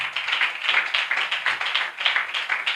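Church congregation clapping hands in praise, a dense, steady wash of many hands beating together in rough rhythm, sustained and fairly close throughout without any voices.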